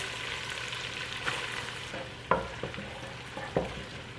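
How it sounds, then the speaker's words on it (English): Butter sizzles softly in a frying pan as a cup of onions goes in, with a steady low frying hiss broken by a few sharp clatters of stirring and utensil taps. "So to my butter, I'm adding in about a cup of onions."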